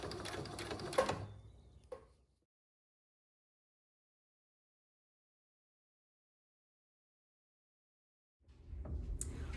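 A sewing machine stitches a fabric face mask in a short, close, rapid mechanical burst that slows and stops. Several seconds of silence follow before the motor whirs again briefly.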